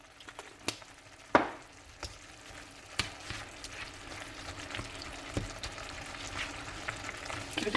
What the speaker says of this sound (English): Give it a good toss, good stir through.